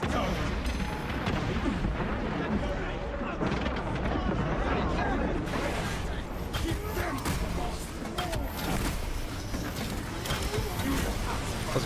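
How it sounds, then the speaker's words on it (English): Explosions in a video game build into a dense, loud stretch of booming blasts and crackling debris that rumbles without a break for the whole stretch. "That's a good bomb."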